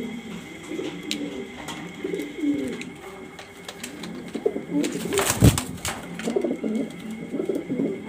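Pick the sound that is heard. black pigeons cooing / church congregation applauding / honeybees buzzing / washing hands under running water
black pigeons cooing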